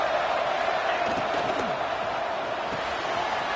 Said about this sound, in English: And wow, listen to this crowd noise. This stadium is vibrating.